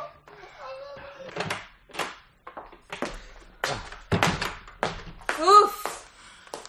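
A door opens and shuts in a radio drama as a wife arrives home, a few close knocks and thuds mixed in among lively talk from the actors.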